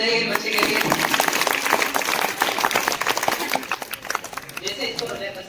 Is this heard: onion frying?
no